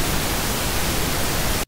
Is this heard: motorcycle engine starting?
no